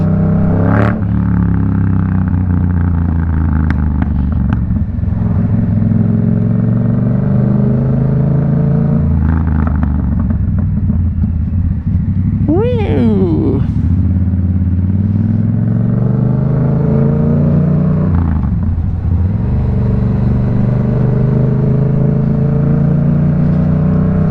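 A Yamaha MT-07 motorcycle engine thrums loud and close from the rider's seat, its low growl rising and falling with throttle and gear changes, plus wind rush and a brief whine partway through.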